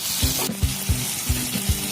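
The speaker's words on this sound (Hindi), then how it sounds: "एक टमाटर डालेंगे और फिर से इसको अच्छी तरह से फ्राई कर लेंगे।" Onion, tomato, garlic and green chilli paste frying in a pan for coriander chicken, a steady close sizzle broken by regular stirring scrapes about every half second, with no voices.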